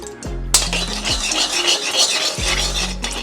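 A spoon stirring ghee and white oil in a kadai, a steady scraping and swirling against the metal pan with faint sizzling underneath, close and continuous.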